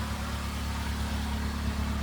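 A 2004-05 Honda Civic two-door coupe engine running rich, a steady low idle rumble with an even pulsing beat, close and continuous with no voices.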